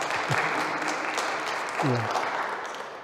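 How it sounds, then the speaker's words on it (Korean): Congregation at a Korean church service in Berlin breaks into warm applause, a dense patter of many hands filling the room while a few voices speak over it. "우리 박수로 환영할까요?"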